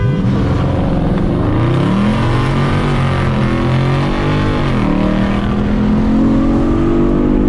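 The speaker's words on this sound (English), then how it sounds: "Car is coming, bro." A loud engine roars close by, its pitch climbing and shifting as a car accelerates past, with a steady throaty drone throughout.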